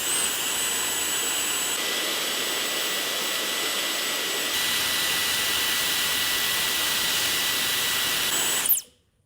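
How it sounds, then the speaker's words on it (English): A bare Dyson hairdryer motor, pulled from its housing, runs with a loud, steady, high-pitched jet-like whine close by, then cuts off sharply at the end. "I think the first thing I want to do is try to run the motor."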